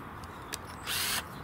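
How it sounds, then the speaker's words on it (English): A brief high whirring burst of a power drill spinning an 8mm bit into the bottom of a planter, lasting under half a second, with a short sharp tick just before it. "I'm going to put an 8mm drill"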